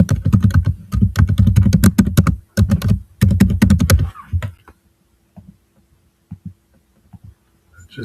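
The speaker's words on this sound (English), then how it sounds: "Just be typing fast." Fast typing on a computer keyboard makes a loud, close, rapid clatter in bursts for about four seconds, then stops, leaving only a few isolated taps and a low hum.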